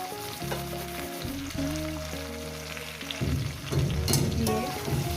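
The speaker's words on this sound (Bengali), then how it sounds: "এটা একটু 2 মিনিটের জন্য একটু মশলাটাকে একটু কষিয়ে দেবো" Ground spices with ginger paste frying in a pan, a close steady sizzle with stirring noises, while a tonal hum and beeping-like tones sound alongside.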